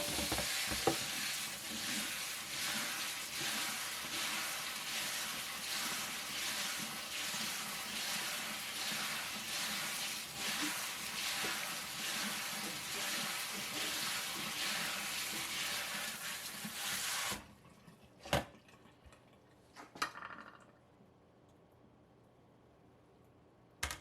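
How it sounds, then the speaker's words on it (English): Lentils are swished and rinsed in water for about seventeen seconds, a continuous wet sloshing and rattling under a running tap, followed by a few isolated splashes and clinks before going quiet. "We're going to wash our lentils well, making sure there's no dirt or small rocks."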